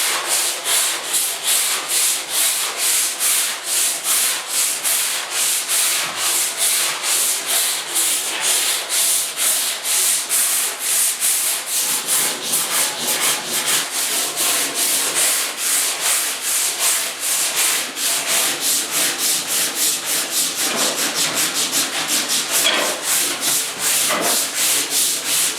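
A 1972 Ford 4x4 truck tailgate is sanded with 80-grit paper in steady, rapid back-and-forth strokes, a continuous close, loud, raspy scratching that quickens toward the end.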